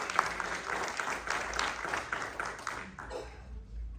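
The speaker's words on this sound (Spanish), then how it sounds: "Dale ese fuerte aplauso al Señor si se lo va a dar." Church congregation applauding during a Spanish-language service in Kilgore, Texas, a steady wash of clapping filling the room for several seconds before tapering off near the end.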